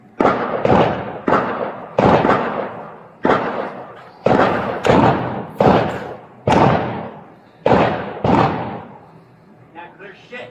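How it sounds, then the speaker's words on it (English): Sharp gunshots ring out during an armed police standoff, about a dozen loud cracks in irregular clusters, several in quick pairs, each echoing and decaying over roughly ten seconds. "He's still firing at us."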